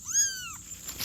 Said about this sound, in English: We found a baby kitty.